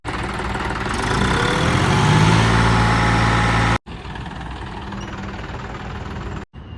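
A John Deere 5210 tractor engine idles close by, a steady low diesel rumble with knocking vibration that runs unbroken, cuts out briefly twice, and resumes.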